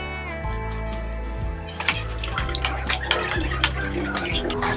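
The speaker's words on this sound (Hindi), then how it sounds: "100 ग्राम्स ऑफ गुड़ डालकर गरम पानी गुड़ के अंदर डाल देंगे।" Hot water is poured from above onto 100 grams of jaggery in a bowl for Uttarakhand-style gulgule batter, a splashing, trickling pour that starts partway through over background music.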